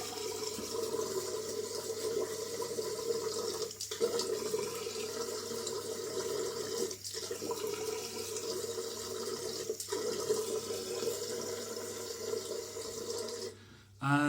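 Water from a tap runs steadily into a sink as someone wets their face before a shave in Italy, with faint splashing breaks in the flow and a louder splash at the end.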